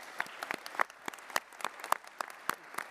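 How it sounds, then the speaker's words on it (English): A conference audience at the Worldchefs General Assembly gives a standing round of applause, heard as sparse, distinct hand claps at moderate distance, fairly faint and without voices. "and especially Wilmette Leong, a good standing applause for what they are doing"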